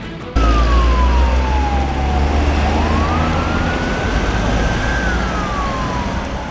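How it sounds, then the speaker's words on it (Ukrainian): An ambulance siren wails loudly from a car crash scene on a city street, its tone sweeping slowly down, up and down again as the vehicle pulls away, over a heavy engine rumble, with no talk. "Одна з них вже з сиреною саме полишала місце аварії."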